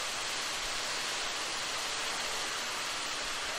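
Concrete is pumped and poured out for a floor, giving a steady, dense rushing wash like falling water that holds evenly throughout at moderate level.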